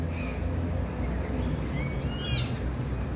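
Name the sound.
bird calling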